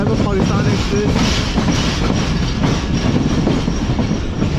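Pakistan Express passenger train rolling on rails toward Kotri Junction, a loud, continuous close-up rumble with rhythmic clickety-clack of wheels over rail joints filling the whole stretch.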